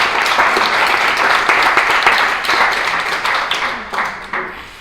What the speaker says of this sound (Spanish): Deberíamos de haber aplaudido